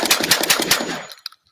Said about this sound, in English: what it sounds like to shoot without the suppressor